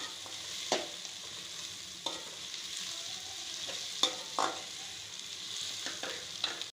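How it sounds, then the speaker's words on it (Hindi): Sliced onions fry in oil, browning lightly for a pumpkin sabzi: a quiet continuous sizzle broken by a handful of brief, crisp stirring scrapes against the pan, no talking. "ये प्याज को हमने जो है ऑयल के अंदर लाल करना है"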